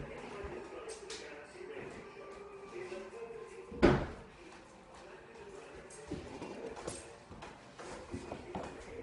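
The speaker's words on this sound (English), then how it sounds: "let me shut the door" A single sharp thud of a door being shut indoors, close and fairly loud, standing out once against a low room hum with faint talk around it.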